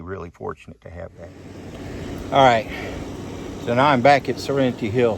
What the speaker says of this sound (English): You can hear that air conditioner in the background.